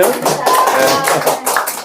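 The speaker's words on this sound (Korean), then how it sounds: "박수 한번 주셔야 될 거 아니에요?" Audience at a political broadcast in Daegu clapping in short uneven bursts close to the microphone, with a brief spoken reply mixed in.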